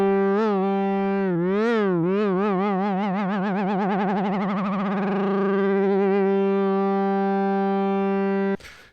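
UDO Super 6 synthesizer tone warbling under a sine wave LFO2, its pitch wobble speeding up into a fast vibrato then steadying, loud and sustained, ending abruptly.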